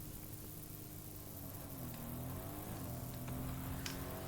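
A car engine in a battle royale video game drives steadily with a mid-pitched hum that rises and dips slightly as it revs, continuous and fairly close, mixed with broad game noise and no talking.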